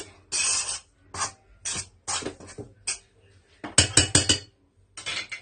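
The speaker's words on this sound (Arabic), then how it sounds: "ونبدا بقى نحط المواد السائله، بس نقلبهم كده تقليبه، نقلب كده المواد الجافه دي" A spoon stirs liquid and dry ingredients together in a bowl, giving bursts of scraping and clinking in uneven strokes, close and fairly quiet.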